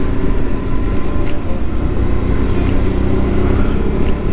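A Suzuki V-Strom motorcycle climbs the winding road up the Col du Coudon, its engine and wind roar loud, close and continuous throughout, with no talking.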